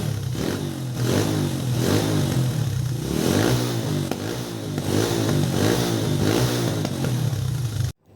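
Motorcycle engine with a stock exhaust revs repeatedly in rhythmic bursts over a steady idle rumble, close and loud, cutting off abruptly at the end.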